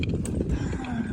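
Haflinger horses pull a wagon on a rainy winter ride, their hooves clip-clopping in a quick uneven rhythm close by, mixed with wheel rumble and rain-wet road noise, with no talk.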